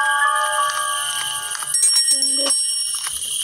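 A bell rings in the horror video game Granny, a bright, sustained metallic ringing with clear pitched tones over faint game ambience, followed by a few short chime-like notes near the end.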